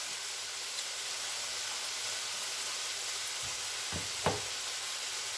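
Chicken meat fries in a pan, giving a steady broad sizzle and hiss close by, with a few soft utensil clicks and taps near the end and no talking.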